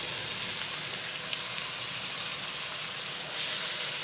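Chopped onions sizzle in a hot pan for chicken curry, a steady bright hiss and crackle that holds evenly throughout with no voices.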